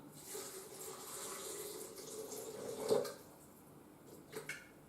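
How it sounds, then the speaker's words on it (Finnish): Water is poured over the ingredients of a creamy nut sauce, a soft continuous splashing that fades after a few seconds, followed by a couple of faint knocks. "Ja sitten tää kaikki peitetään vedellä."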